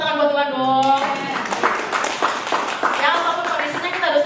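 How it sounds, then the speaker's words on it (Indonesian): A church congregation at a miracle prayer worship service breaks into a burst of dense, lively hand clapping right after a voice is heard speaking, and the applause carries on steadily to the end. "Yang setuju tepuk tangan buat Tuhan dong."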